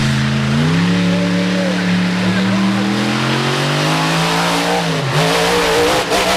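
The Ram-powered Raminator monster truck's loud engine roars and revs at a Monster Nationals event in Sturgis, its pitch climbing and holding, with an announcer talking excitedly over it and crowd noise behind.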